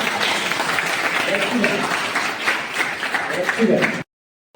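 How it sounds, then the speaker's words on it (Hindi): Children applaud a classmate named Nisha after her drawing at a child-rights awareness session, a loud, steady burst of many small hands clapping that stops abruptly, with faint voices mixed in. "निशा के लिए बहुत सारा ताली बजाओ।"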